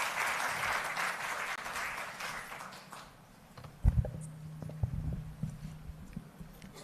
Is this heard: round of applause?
yes